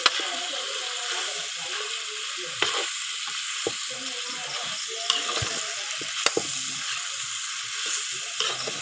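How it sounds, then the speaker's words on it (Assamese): Meat stirred in a pan with pumpkin and potatoes, a steady close sizzle of frying with scattered scraping clicks of a spoon against the pan throughout, no talking. "মাংসখিনি অলপ লেৰাৰ পিছতে এতিয়া দি দিছোঁ ৰঙালাও আৰু আলুখিনি। এতিয়া ভালদৰে লৰাই লৈ"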